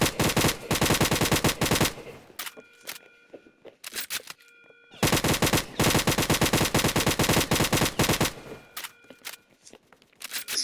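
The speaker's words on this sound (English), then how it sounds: "Shooting random people on Brookhaven" Rapid automatic gunfire from shooting at people in the Roblox game Brookhaven: long bursts of sharp repeated shots, a pause of scattered single shots and footsteps, then another sustained volley, fairly loud with no talking.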